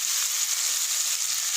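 Mushrooms dropped into a hot pan of oil for a mushroom curry give a steady, close, dense hiss of sizzling with no talk.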